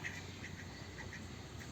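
Village ducks that have climbed out of a pond to dry in the sun, giving a rapid series of short, nasal quacks at moderate distance over a faint outdoor background.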